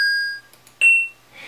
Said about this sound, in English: it's that similar sound of a coin or pickup, you're collecting something